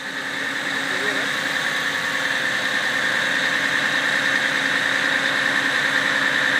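A fire truck's aerial ladder machine with its engine running, a steady close drone and a thin high whine held evenly throughout.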